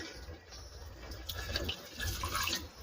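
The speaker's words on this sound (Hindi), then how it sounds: "यहाँ मैंने पानी डाल दिया" Water splashes and pours into a cooking pot of potatoes in a home kitchen, a soft continuous trickle with brief bright splashes, fairly quiet and close, with no talking.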